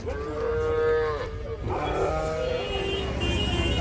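Calves at a cattle market in Pollachi mooing loudly in two long, drawn-out calls, close by, with faint background noise and a brief vehicle sound.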